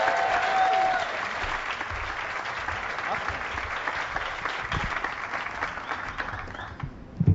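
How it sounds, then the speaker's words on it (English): An audience at a Curiosity rover tweetup event claps for the speakers, a dense sustained round of applause that fills the room and tapers off near the end. "One more big round of applause for our speakers"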